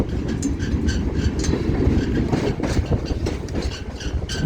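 A train rolls along the tracks with a loud, continuous rumble and rhythmic clickety-clack from the wheels, with no voices.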